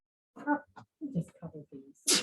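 Someone speaks briefly during a nursing lecture on kidney failure, then a sharp, loud sneeze bursts out at the end.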